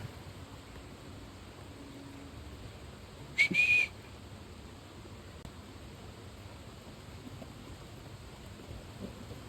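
Steady rain falls outdoors as a low, even wash of hiss, with one brief sharp whistle-like burst partway through.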